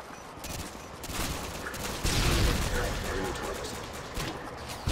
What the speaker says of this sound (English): There's an intense firefight between me and Last Dad and somebody with an actual weapon